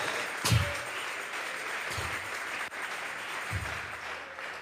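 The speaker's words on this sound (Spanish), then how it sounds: "Vamos a regalarle ofrenda de palmas al Dios de la gloria" Church congregation at a Tuesday Bible study clapping together as an offering to God, a broad, steady wash of applause with a few louder thumps, moderately distant and continuous.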